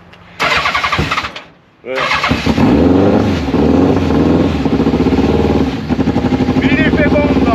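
A Renault 4L with a carburettor engine cranks, catches and stumbles, cuts out briefly, then starts again and settles into a loud, close, uneven rumbling idle with revs rising and falling, and someone says a single word over it.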